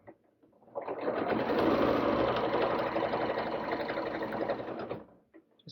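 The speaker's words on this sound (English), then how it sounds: "Just helping feed that fabric through there." A sewing machine stitches a doll dress waistband as fabric is fed through, a steady close whirring hum that starts, runs continuously for about four seconds, then stops.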